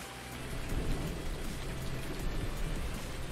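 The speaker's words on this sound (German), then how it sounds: "Ich höre Gewittergerollen im Hintergrund." Steady rain and low rolling thunder in the farming game Farming Simulator 19, a dense continuous hiss over a deep rumble that swells and holds, with no voices.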